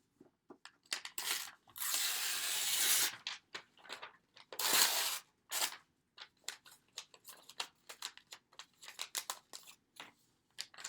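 Paper is ripped up by hand: two long, loud tearing rips, then a rapid string of short rips and crinkling bursts that continues close up without talk.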